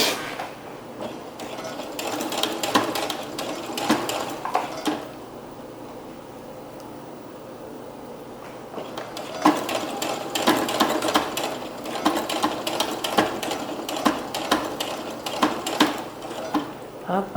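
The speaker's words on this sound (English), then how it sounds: "We are going to continue to sew." A sewing machine stitches the godet of a prom dress in two steady running bursts with a quieter pause between them, close and fairly loud, with no talk over it.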